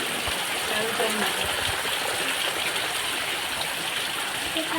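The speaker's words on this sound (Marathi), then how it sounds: "तुम्हाला आता पावसाचा आवाज येतच असेल हे बघा सगळा पाणी पूर्ण फुल भरला" Heavy monsoon rain pours in the Konkan countryside, filling a courtyard with water; a dense, continuous rushing wash like flowing water, steady and fairly loud throughout.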